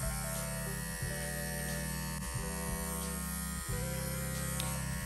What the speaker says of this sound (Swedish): Vänd på maskinen och jobba från olika håll för att verkligen få bort pälsen överallt.